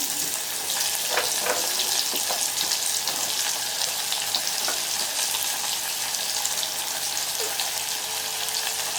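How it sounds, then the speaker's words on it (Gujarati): Bottle gourd pieces, about 500 grams, sizzle loudly in a spoonful of hot oil with cumin and turmeric as they are stirred. The frying is steady and close, with occasional scrapes of the spoon. "તો દૂધી ઉમેરી દેવાની, બધી જ દૂધી ઉમેરી દેવાની."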